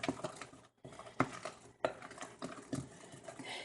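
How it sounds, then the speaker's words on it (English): A spoon or whisk scrapes and taps against a bowl while cream is mixed for a no-bake cheesecake, with close, irregular clinks and strokes, broken by a couple of brief pauses. "And you just keep mixing it."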